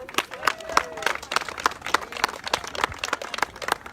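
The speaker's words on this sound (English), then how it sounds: "Give yourselves a big hand of applause." An outdoor protest crowd in Edmonton, Alberta claps in a brisk, uneven round of applause, with sharp individual claps close by and whistling or cheering mixed in.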